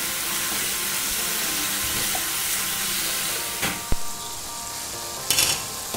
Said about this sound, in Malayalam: അപ്പം എല്ലാം കൂടി നമ്മൾ ഒരുമിച്ച് വഴറ്റിയെടുക്കണേ